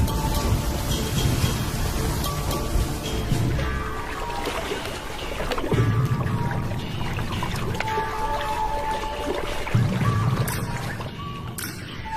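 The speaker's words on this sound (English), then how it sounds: "The first real rains for a year." Heavy rain pours steadily in the first real rains for a year, a dense loud hiss of drops filling the scene throughout without pause, with low rumbling swells recurring every few seconds.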